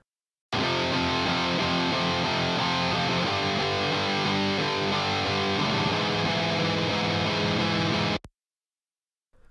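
Distorted electric guitar recorded with SM57 microphones plays a dense, sustained riff for about eight seconds at steady loudness, then cuts off abruptly, with no talking.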